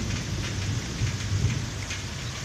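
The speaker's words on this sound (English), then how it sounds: "looks like the rain's here now." A heavy rain shower falls during a thunderstorm, a dense, steady hiss of rain with low thunder rumbling underneath.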